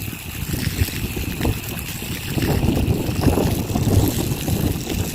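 Strong wind of a sandstorm roars and buffets outdoors, a loud, constant low rumble gusting and swelling without pause.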